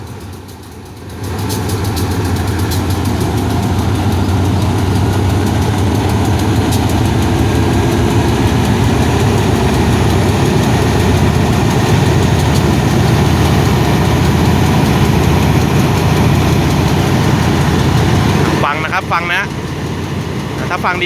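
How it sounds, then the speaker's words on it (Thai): A large diesel locomotive engine idles steadily at Salaya railway station, Thailand, with a deep, constant rumble and low throb, running continuously for most of the clip before fading slightly at the end. "เดี๋ยวเราจะให้ฟังเสียงเครื่องกันนะ"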